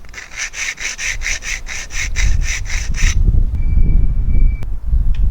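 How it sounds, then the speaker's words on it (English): A steel bike fork steerer tube for a new RockShox fork is filed smooth after a hacksaw cut, with about a dozen quick, even rasping strokes over three seconds, then the filing stops and a low rumble of handling noise remains. "and then filed it to finish it off"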